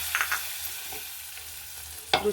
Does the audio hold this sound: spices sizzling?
yes